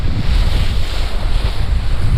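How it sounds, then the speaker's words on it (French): Loud, gusty wind at a kitesurfing spot buffets the microphone in a continuous low roar with no voices. "Donc là, typiquement, on a un peu de vent"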